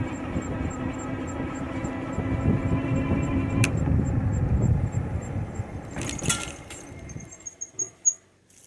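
A Monday Motorbikes Anza 750w electric motorbike climbs uphill without pedaling, giving a steady electric motor hum with wind rush that fades away near the end, followed by a few brief knocks.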